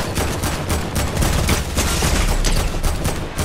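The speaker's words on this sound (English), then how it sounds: "Shooting at the wrong guy" Sustained video game gunfire rattles in dense, rapid bursts, loud and close throughout with a low rumbling body and no voices.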